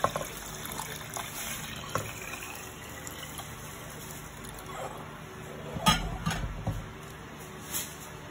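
Coconut milk is poured over washed glutinous rice in a pot for biko, making a soft liquid pouring and splashing sound close by, mixed with faint clinks of the pot and utensils, with no talking.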